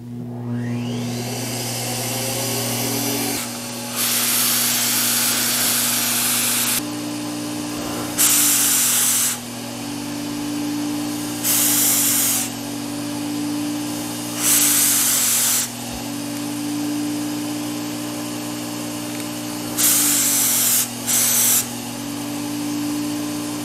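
A Fuji HVLP turbine spray system runs with its variable speed near 75 percent, a constant loud turbine drone overlaid by repeated bursts of hissing spray starting and stopping, several trigger pulls of a few seconds each, close and without talking.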